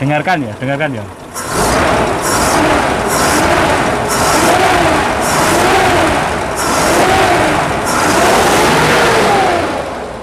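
A 1972 Toyota Land Cruiser FJ40 engine revs repeatedly up close, loud surges rising and falling in a steady rhythm after a few short opening blips.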